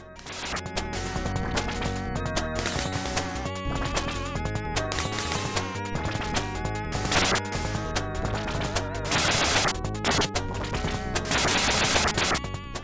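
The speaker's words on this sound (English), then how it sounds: "if a shot kills an enemy, it makes a sound, followed by an explosion and a dust cloud that whizzes by along with the rest of the game world" Rapid shots and enemy explosions from the video game Space Harrier II, a dense run of repeated crashing blasts over loud, continuous game music.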